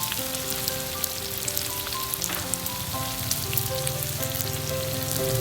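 Small onions, about 100 grams, frying in a pot for Thai braised pork, a steady crackling sizzle with fine popping held at an even, moderate level throughout, no talk.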